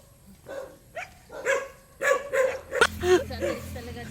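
A dog barks repeatedly and fairly close during an outdoor walk, roughly seven sharp barks with some whimpering yips, and people's voices murmur faintly around them.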